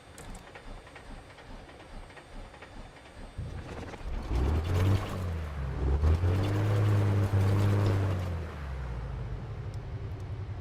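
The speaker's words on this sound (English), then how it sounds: "That's one engine running." An aircraft engine starts up after a flooded first attempt: a low rumble builds from about four seconds into a steady, loud harmonic drone with a rising pitch and brief wavering, the engine running on alone without talk.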